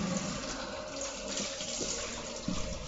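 Tap water runs steadily over a hollowed-out eggplant shell as its seeds and ribs are rinsed out, making a continuous close splashing rush with no talk.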